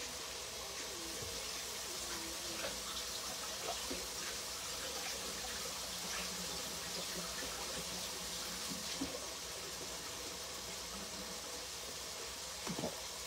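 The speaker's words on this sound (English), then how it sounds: "Okay, I'm gonna rinse these and chop them." Vegetables rinsed under a running kitchen tap, a steady faint rush of water with light splashing and occasional handling clicks, close and continuous.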